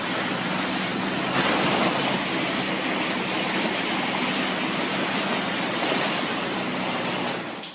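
Hail and floodwater rushing down a street like a river in Boise, Idaho, a dense, steady roar of churning water filling the whole clip, loud and close with no pauses.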